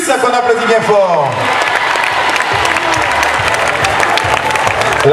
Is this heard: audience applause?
yes